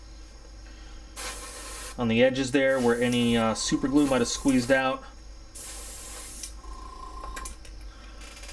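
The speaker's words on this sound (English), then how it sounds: "And now we'll give them one last little spray" An aerosol can sprays the tracks of a 1/35 Tamiya M247 Sergeant York model tank, with two short hissing bursts. Someone talks between them.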